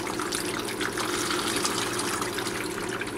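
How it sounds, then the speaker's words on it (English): Water being poured onto a potted multifloral orchid, a steady close splashing and trickling that runs evenly throughout with no talking. "the first one I'm watering is Prince Edward of York."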